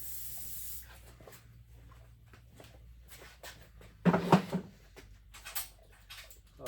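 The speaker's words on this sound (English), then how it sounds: "It's an antibacterial spray that I use instead of a wipe to clean off her teat at the end." A short, quiet hiss of Fight Back antibacterial teat spray is sprayed onto a dairy cow's teat during milking cleanup, a brief spritz burst amid low barn background noise.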